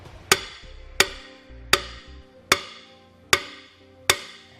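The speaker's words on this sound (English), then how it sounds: "You may need to persuade it a little bit with a hammer." Hammer blows tapping a Carr LD custom-fit side step back into position on a 2009 Dodge, six sharp metallic strikes spaced about once per second, each ringing briefly, close and loud, with no talk.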